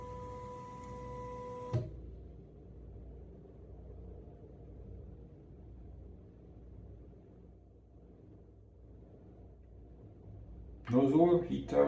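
A Prusa MK4 3D printer runs its self-test, with steady whining motor tones for a moment, a long stretch of low quiet hum, then a short busy clattering burst of movement at the end.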